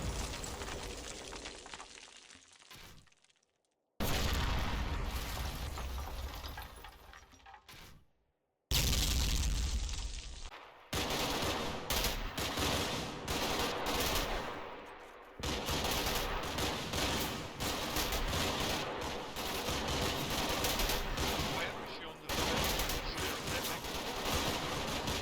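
Mortar fire and gunfire in the war game Combat Mission, set at Monte Cassino, make dense, sustained loud bursts of shots and blasts, broken by two brief silences near the start.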